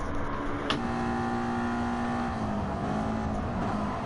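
Toyota MR2 race cars in Gran Turismo Sport at Monza, engines droning steadily side by side with a sustained tonal whine that shifts pitch slightly, continuous and fairly loud with no talk.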